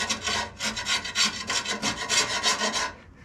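Carbide-insert scraper with a lathe insert scraping old paint off sheet metal during a lathe restoration, a run of rough rhythmic rasping strokes, about eight close, loud passes in quick succession, no voices.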